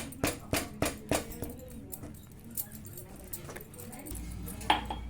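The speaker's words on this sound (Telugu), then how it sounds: "ఈ విధంగా ఈ కోవ మంచిగా అరిగేదాకా కలుపుకోవాలి" Khoa mixture being stirred in a pan for a sweet: a spoon clinks sharply against the metal several times at first, then settles into softer, scattered scraping.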